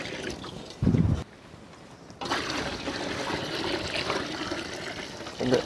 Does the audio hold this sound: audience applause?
no